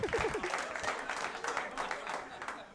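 Audience at a Louis C.K. stand-up comedy show applauds in a brief, moderately sized burst of clapping that tapers off over a few seconds, with voices mixed in.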